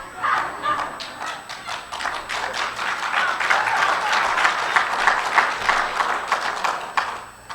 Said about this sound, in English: I love it when four of you clap.